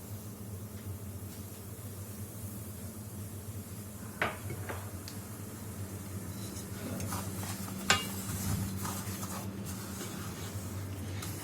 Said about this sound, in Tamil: ரவையை ஒரு 2-3 மினிட்ஸ் நல்லா வறுத்துடலாம்.